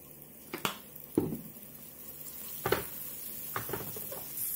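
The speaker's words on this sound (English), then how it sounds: "You could fry them in vegetable oil, olive oil or even butter" Mixed lentil vegetarian burgers fry in oil in a pan, a soft continuous sizzle broken by a few sharp clicks and scrapes of utensils against the pan, close and fairly quiet with no talk.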